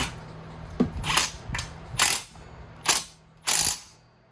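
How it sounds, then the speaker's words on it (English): A ratchet tightens hex bolts on a pressure washer pump in about six short clicking bursts, close and fairly quiet, with gaps between each pull. "Tighten the hex bolts down to spec."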